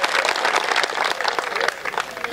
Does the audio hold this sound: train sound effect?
no